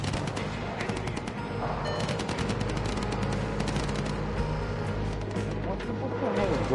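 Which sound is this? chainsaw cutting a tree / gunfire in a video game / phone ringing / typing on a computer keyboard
gunfire in a video game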